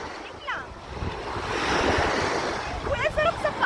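Waves lapping and washing on a lake shore under gusty wind buffeting the microphone, with a few brief voices at the start and near the end.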